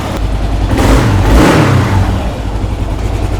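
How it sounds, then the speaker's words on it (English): A Kawasaki KLR650 motorcycle engine fires up with a brief rising rev, then settles into a steady, close, loud idle. "Now let's start her up and take a look at the idle."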